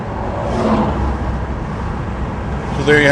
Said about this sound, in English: A lot of traffic up here too.